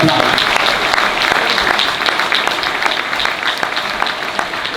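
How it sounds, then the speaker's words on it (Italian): An audience at an Italian political campaign rally applauds, steady crowd clapping with a few sharper individual claps standing out, loud and continuous throughout, with some voices mixed in underneath. "siamo gente che resiste e quindi meritiamo un applauso."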